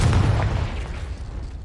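Confringo spell explosion in Hogwarts Legacy, a single loud close boom that fades into a rumbling decay over about a second and a half.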